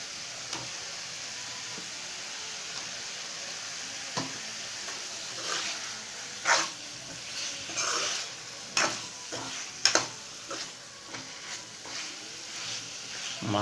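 Fried catla fish being stirred into sizzling masala for an Assam-style fish curry, heard as a soft continuous sizzle with scattered louder clicks and scrapes from the spoon against the pan, fairly quiet overall.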